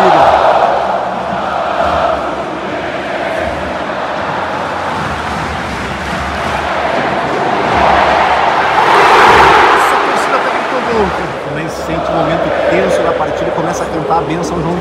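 Fluminense supporters roar and chant throughout a tense second half against LDU in a packed stadium, a dense, steady crowd din with swelling peaks and people talking nearby.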